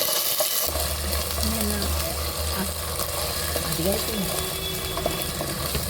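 Ginger garlic paste for chicken curry fries in an oiled pan with a constant close crackling sizzle, and a low burner hum sits under it. A spoon scrapes and clinks now and then while someone talks over the cooking.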